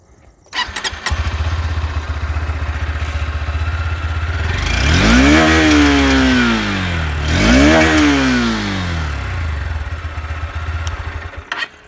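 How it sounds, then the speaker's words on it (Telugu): A Honda CB200X motorcycle starts up with a brief cranking clatter, then idles steadily at close range and is revved twice in smooth rising and falling sweeps before settling back to a loud idle. "సో ఇప్పుడు మనము బండిని స్టార్ట్ చేసి ఎగ్జాస్ట్ నోట్ విందాము."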